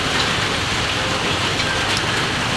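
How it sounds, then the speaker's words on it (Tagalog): Heavy, relentless rain pours down steadily around a house in the Philippines, a dense continuous hiss of drops hitting surfaces with no pauses and no voices. "Dito po grabe ang ulan. Wala na pong tigil ang ulan."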